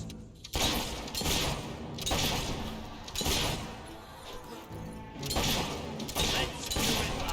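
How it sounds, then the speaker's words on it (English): Volleys of gunfire in the Fable III video game arrive in repeated loud bursts separated by short lulls, with crashing impacts mixed in. "Come back shooting at us!"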